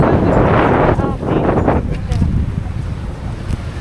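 Heavy wind buffets the microphone with loud rumbling gusts while strong sea waves churn nearby on a Philippine coast; a voice speaks faintly underneath.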